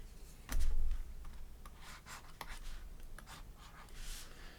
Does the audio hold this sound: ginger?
no